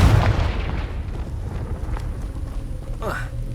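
A Confringo fire spell from the video game Hogwarts Legacy bursts with a loud boom at the start, then rumbles down into a low, crackling tail with a brief whooshing flare near the end.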